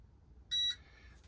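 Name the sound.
weighing scale beeping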